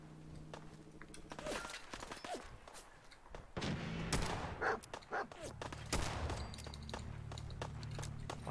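Gunfire in Fallout 4 survival mode crackles in bursts of sharp, close shots, with several loud reports and scattered distant pops over background game noise.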